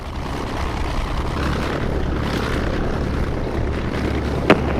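A race aircraft's engine runs at the Reno Air Races before qualifying, a low, steady droning rumble that holds evenly throughout, with one brief sharp click near the end.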